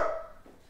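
A person imitates a dog with a single loud bark-like shout at the start, fading quickly into a short tail of quieter sound.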